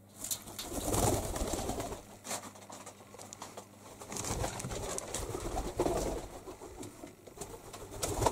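Rock doves coo and shuffle nearby, with soft, low, throaty calls mixed with wing flutters and light pattering in a quiet space.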